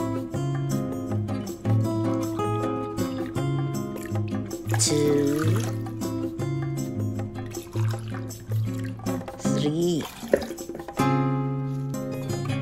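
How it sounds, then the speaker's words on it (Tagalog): Water poured into a pot of lemongrass leaves and ginger for herbal tea, a splashing trickle under background music, with a brief spoken count. "Lagyan ng 3 cups na tubig."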